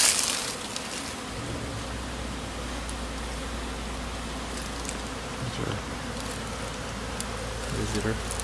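Honey bees hum close by around a hive on late-winter cleansing flights, giving a continuous buzzing drone with individual bees swelling louder as they pass near.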